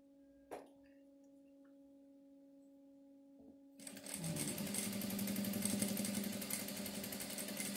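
A sewing machine stitches a straight seam on a girl's child blouse. After a quiet start with a single tap and a faint hum, the motor kicks in around the midpoint and runs in a loud, steady, close-up buzz to the end.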